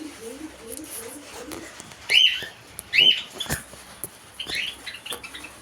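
Pet cockatiels feeding right after food is put out give a few short, bright chirps, spaced about a second apart, over soft low cooing and steady background noise.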